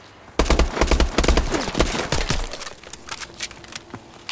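Video game gunfire: a rapid burst of loud shots in the first two seconds, then sparser, fainter cracks and clatter trailing off.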